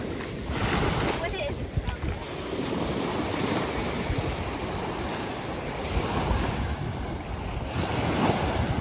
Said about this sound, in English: It's known for big waves.